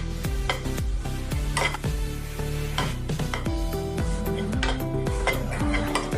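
Desiccated coconut and milk powder roast in a kadhai for coconut laddoos, with a spoon repeatedly scraping and stirring against the metal in quick rhythmic strokes over a soft background hiss, close and fairly loud.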